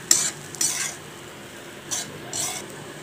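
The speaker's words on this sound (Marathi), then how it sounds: "तर इथे चुरमा आपल्याला चांगला असा परतून घ्यायचा आहे, फक्त असं मस्त भाजून घ्यायचं आहे थोडा वेळ आपल्याला" Churma roasting in ghee and oil gives a low background hiss, broken by a few sharp scrapes and clinks of a spoon stirring in the pan, close and fairly quiet.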